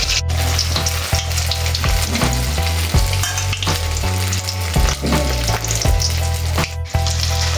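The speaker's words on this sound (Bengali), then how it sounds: "এবার আমি একটা একটা করে এখানে ভেজে নেব।" Flour dough pieces frying in hot oil, a loud, steady sizzle with crackling bursts and occasional stirring or spatula clatter, close up and continuous with no voices.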